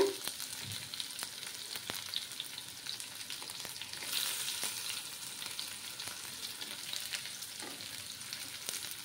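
Chopped onions with curry leaves frying in a pan over low heat give a soft, steady sizzle throughout, broken by a few faint clicks of stirring, with no voices.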